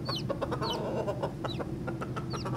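A blue hen clucking in short repeated bursts over a steady background hum, fairly close and moderately loud, with no voices.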